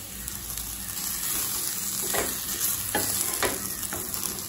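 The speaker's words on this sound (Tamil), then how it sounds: "இந்த அளவுக்கு தேங்காய் சேர்த்துட்டு வதக்கிக்கோங்க." Diced elephant foot yam with grated coconut sautéed and stirred in a pan, giving a steady close sizzle with occasional scraping stirs.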